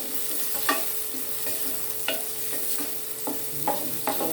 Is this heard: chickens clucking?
no